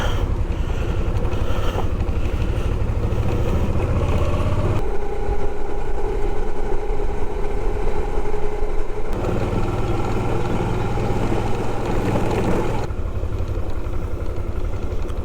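Motorcycle engine running as the rider pulls away slowly on a summer club trip near the Dniester river, a steady loud rumble mixed with heavy wind buffeting on the microphone throughout, with no speech.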